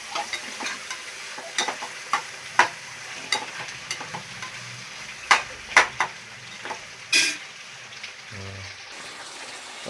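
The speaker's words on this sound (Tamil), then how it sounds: "அடுத்து வந்து தக்காளியை போட்டுடலாம். தக்காளியை போட்டுருவோம். அப்படியே இதையும் ஒரு கிண்டிட்டு" Onion and newly added tomato fry in a pan with a soft sizzle underneath. Irregular sharp spatula scrapes and clacks come at intervals, and a louder clatter sounds near the end, with no talking.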